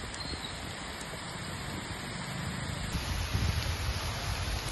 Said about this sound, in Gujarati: બનાસકાંઠાના લાખણી તાલુકાના જેતળામાં ધોધમાર વરસાદ